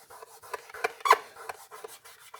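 Dirt being rubbed off a dirty old Philips LED floor lamp fixture, heard as a series of short, close scraping rubs in an irregular rhythm, a few sharper strokes standing out, with no talking.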